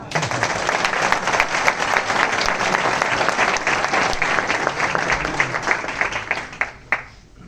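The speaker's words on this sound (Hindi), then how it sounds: "चलो उनके लिए तालियां बजाओ।" An audience at a talk by a telecom department deputy director breaks into applause: thick, continuous clapping at a steady level for about seven seconds, thinning out and dying away at the end.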